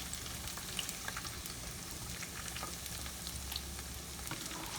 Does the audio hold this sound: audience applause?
no